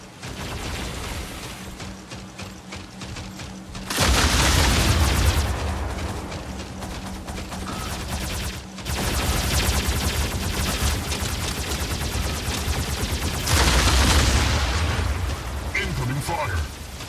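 Heavy gunfire and explosive blasts from the Mech Arena mobile online mech battle game, sustained loud bursts with stronger surges around four and fourteen seconds, with a voice heard over the combat.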